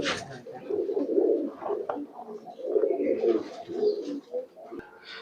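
Bagha pigeons in a loft coo repeatedly in soft, throaty bursts, several calls overlapping close at hand with brief pauses between phrases.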